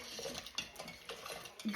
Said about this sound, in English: And then we're gonna stir that all in.